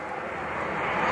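Roar of a de Havilland Venom jet, a re-winged development of the Vampire, flying at a Duxford air show, a loud, broad rushing drone that swells steadily.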